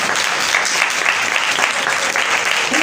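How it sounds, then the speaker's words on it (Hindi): Loud, steady applause from a congregation cheering children at a church sermon, dense and continuous throughout with a faint voice underneath. "कवायद के बच्चों के लिए जोरदार तालियां हैं।"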